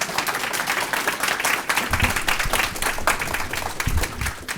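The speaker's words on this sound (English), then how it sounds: "Please give a round of applause to Dr." An audience claps for a speaker introduced at a science-and-faith talk, a moderate, uneven burst of applause with heavier claps standing out, fairly close and without speech.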